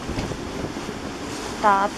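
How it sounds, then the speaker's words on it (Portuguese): Strong typhoon wind buffets an anchored boat at sea in Micronesia, a loud continuous roar with gusty rumble, and a short tonal whistle or voice-like sound rises near the end. "E agora o vento tá aí, 30, 35 nós."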